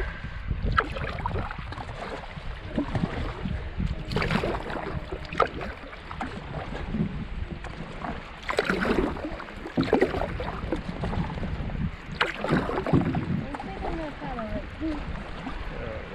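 Canoe paddling on open water, with irregular splashes and paddle strokes against steady wind noise and water movement, while people talk throughout.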